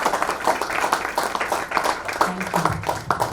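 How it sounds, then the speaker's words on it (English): Audience applause at a book launch event, a moderate round of scattered hand clapping with a voice briefly heard underneath. "Can we have a big round of applause for this talented."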